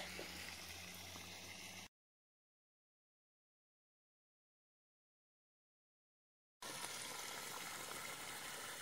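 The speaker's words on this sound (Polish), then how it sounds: "Woda się leje, dobrze tutaj jest zalane" Water gushes and splashes steadily onto a newly planted privet hedge, loud and near in two stretches separated by several seconds of silence.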